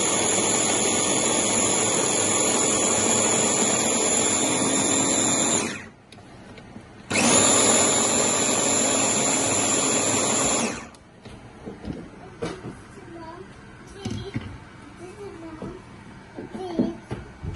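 A kitchen blender grinds soaked mustard seeds for a dried-fish mash, with two loud, close bursts of high-pitched motor whine and a short pause between them, then quieter clatter and handling noises after it stops.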